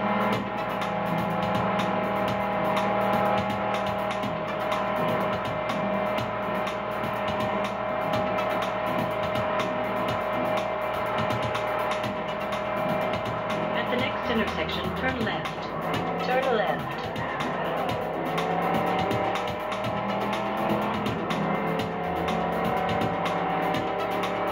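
Cars race in the video game Test Drive Unlimited through traffic in Ala Moana, with a steady engine drone and occasional tire squeals running loud and continuous, while a voice talks over it.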